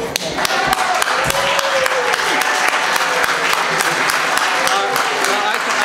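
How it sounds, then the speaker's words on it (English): A concert audience applauds loudly and steadily for a performer's encore, a dense roar of clapping with voices and whoops mixed in, holding at full strength throughout. "if you applaud really loud, he'll do it"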